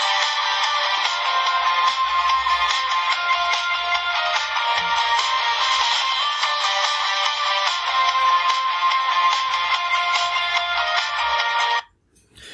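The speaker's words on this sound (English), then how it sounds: "so you see that you get that whole tune as your SMS tone now." A custom tune plays in full as the SMS alert on a homebrew Windows Phone, a loud, steady melodic ringtone lasting about twelve seconds before cutting off abruptly.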